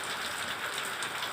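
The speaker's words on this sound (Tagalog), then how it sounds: "nag-start na po ang ulan-ulan dito po sa amin sa gawa ng bagyong Owan" Steady rain from Typhoon Owan falls in San Jose del Monte, Bulacan, as a dense, even hiss of drops hitting surfaces. It is constant and moderately faint, with no voices.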